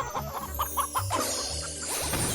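A hen clucks in a short series of quick, rhythmic calls, fairly close, over a low background hum, then the clucking trails off.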